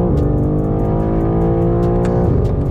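Loud sports car engine, a BMW M4 CSL or Porsche 911 GT3, revving hard with a dense, rasping harmonic roar that holds steady and then shifts pitch briefly near the end, heard alone without voices.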